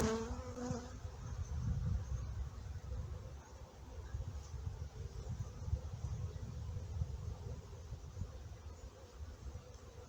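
A dense, steady swarm of honeybees drones continuously at close range at an open hive, a low layered hum with no pauses.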